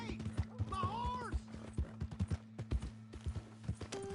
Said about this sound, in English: Hey! My horse!